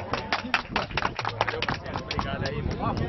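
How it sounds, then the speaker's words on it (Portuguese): Applause rises for an athlete and doubles team at a futevôlei award ceremony, scattered claps pattering under loud crowd chatter and an announcer's voice. "Uma salva de palmas, pessoal!"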